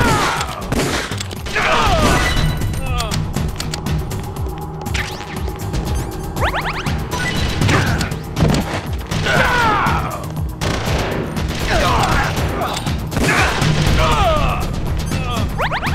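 Video-game gunfire crackles in rapid bursts and scattered single shots, loud and sharp, mixed with smashing impacts over a steady noisy backdrop, with faint voice now and then.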